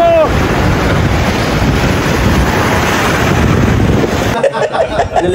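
Sea surf rolling onto the beach at Cox's Bazar, a loud, dense, continuous roar of breaking waves with heavy wind buffeting the microphone, cutting off abruptly near the end.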